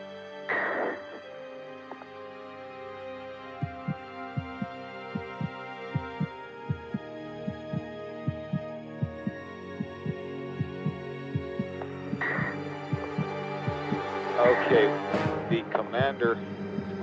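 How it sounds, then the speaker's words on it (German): A racing heartbeat thuds in quick, regular pulses through most of the stretch, low and steady under a humming background, while someone narrates over it. "Die Astronauten bekommen solches Herzrasen,"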